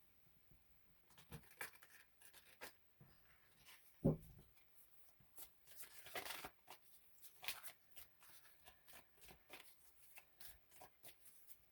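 Damp, sticky tarot cards are shuffled by hand, producing soft, irregular riffling and slapping sounds close by, quiet overall, with one sharper tap partway through.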